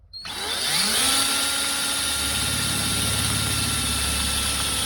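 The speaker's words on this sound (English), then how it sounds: "line it up and drill a nice straight hole" A power drill bores a hole for a speaker in a 1999-2003 Chevrolet Silverado crew cab, spinning up quickly and then holding a loud, steady whine close by.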